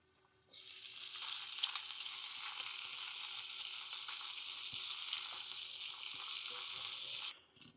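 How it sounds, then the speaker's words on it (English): Bacon sizzling and frying steadily in a pan at a campsite cookout, a loud continuous crackle that starts abruptly, holds evenly for about seven seconds, then cuts off, with no talking. "So we'll get the bacon in."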